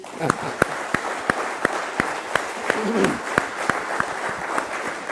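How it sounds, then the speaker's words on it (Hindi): Audience clapping at a World Biofuel Day celebration event, a sustained round of applause with distinct loud individual claps standing out rhythmically, a voice briefly audible underneath midway. "तो ये ताली अभी और एक बार जोर से बजाइए"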